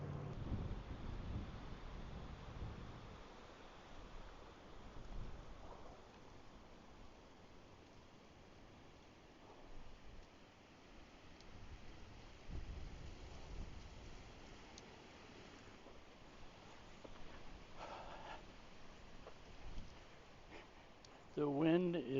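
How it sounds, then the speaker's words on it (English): Strong gusts buffet a microphone outdoors, giving a loud low rumble that swells and fades in uneven bursts, with a few faint knocks toward the end. "The wind is really strong."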